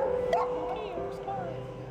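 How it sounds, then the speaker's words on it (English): A dog gives a few sharp yips and barks close by, with people talking over and around the barking. "Not nice to bark."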